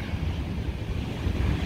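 Ocean surf washes onto the shore at Smelt Sands State Park on the Oregon coast, a loud, continuous roar of breaking waves mixed with heavy wind buffeting the microphone.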